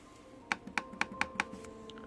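Keys tapped on an Asus X509J laptop keyboard without backlighting: five crisp, evenly spaced keystrokes close up, followed by a couple of softer taps in a quiet room.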